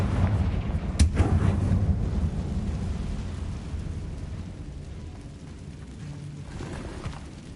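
A Confringo blasting spell in Hogwarts Legacy goes off with a deep rumbling boom and a sharp crack near the start, then a long low roar that fades away.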